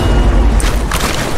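A frag grenade goes off in an online shooter game, a loud low boom that rolls on through the whole moment, with short bursty crackles layered on top midway.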